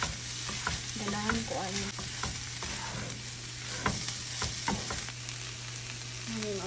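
Corned beef frying in a lightly oiled pan sizzles steadily while a utensil stirs and scrapes in irregular strokes, close by, with a brief voice speaking over it.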